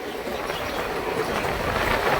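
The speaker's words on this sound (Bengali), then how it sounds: "এখন আমঘাটা রেল স্টেশনের দিকে ঢুকছে ট্রেন" A local train runs toward Amghata railway station, its wheels rumbling and clattering steadily on the rails with a continuous loud roar heard from on board.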